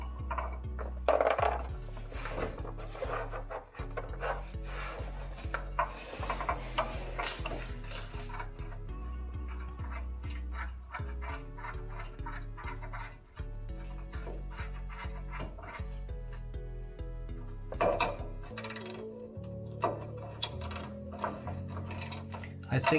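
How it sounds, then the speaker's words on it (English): A hand ratchet clicks in repeated runs while tightening a nut on a bolt, close and crisp, with pauses between strokes and some clunks of the parts moving. "That tells me how far to crank down on the bolt, on the nut."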